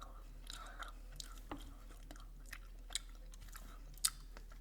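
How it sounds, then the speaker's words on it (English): Quiet, close-up chewing of a Tootsie Roll candy, soft wet mouth sounds with a few small clicks and one sharper tick near the end, no talking. "I'm just chewing on a Tootsie Roll right now."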